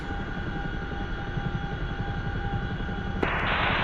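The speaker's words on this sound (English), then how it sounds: "We're going to overspeed our helicopter." A DCS World combat helicopter pushed into overspeed gives a steady, loud rotor and turbine drone with constant tonal whine, then a sharp jump to a brighter, harsher roar near the end.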